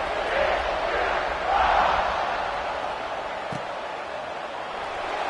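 A college football stadium crowd buzzing after a score, a broad, steady roar of many voices that swells briefly and then settles into a continuous murmur.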